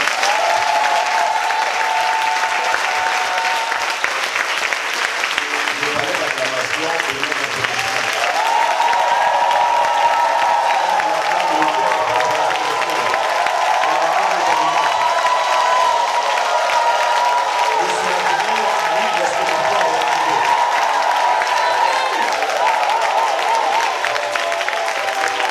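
A church congregation bursts into sustained applause and cheering, a dense roar of clapping hands and voices that rises and swells midway and keeps going steadily throughout, with no clear speech above it.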